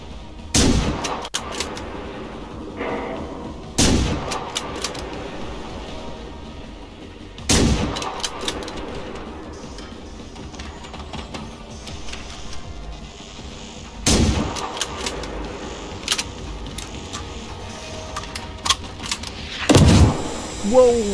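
Robotic enemies in the video game Generation Zero fire lasers in about five loud, sharp blasts spaced several seconds apart, with quieter game ambience filling the gaps.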